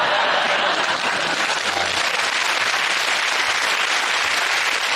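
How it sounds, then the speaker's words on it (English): A studio audience at a British topical comedy panel show bursts into applause, a dense, steady clatter of many hands that stays loud and unbroken throughout. "you're applauding there"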